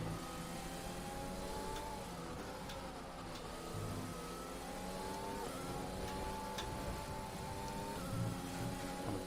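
Formula One car engine in the F1 2020 racing game, a steady high-pitched whine rising and falling through gear changes, loud and continuous throughout without talk.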